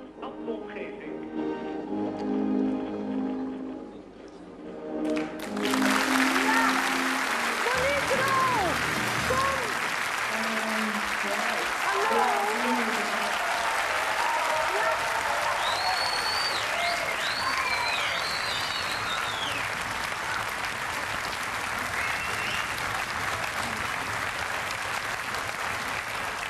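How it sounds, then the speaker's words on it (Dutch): A Dutch television show audience breaks into loud, sustained applause and cheering after a few seconds of speech and sound. The broad clapping continues for over twenty seconds, with occasional whistles rising above it. "De toejuichingen van het publiek."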